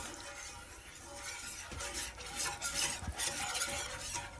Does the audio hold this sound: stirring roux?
yes